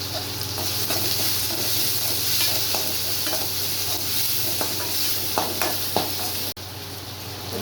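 Onion and curry leaves fry in hot oil in a pan with a bright, steady sizzle, punctuated by repeated scraping and tapping as they are stirred close up, ending in a sharp knock.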